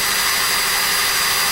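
A power drill bores into a printer ink cartridge, a steady, loud whirring drone holding unbroken from start to finish.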